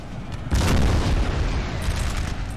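Artillery explosions rumble in a Napoleonic Total War 3 four-versus-four battle, a heavy boom striking near the half-second mark and rolling into a sustained, dense roar of distant cannon fire that stays loud to the end.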